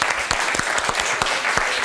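An audience claps in a dense, steady burst of applause that fills the whole moment, loud and close, with no voices heard.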